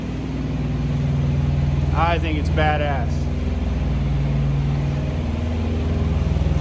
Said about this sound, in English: sorry it's loud in here. This other guy's running his reefer.